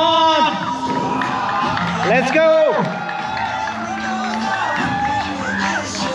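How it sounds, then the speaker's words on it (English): Fans at a Hyderabad FC football match between supporters and coaches cheer and whoop as a loud crowd, with shouts and raised voices near and far and some clapping mixed into the noise. A voice calls out over the crowd. "Give a round of applause, guys."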